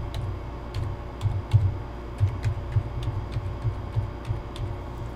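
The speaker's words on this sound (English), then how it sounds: "So now I'm going to go ahead and put in the password that I created." A BitLocker password is typed on a computer keyboard, giving a sparse run of light, close key clicks over a steady low hum.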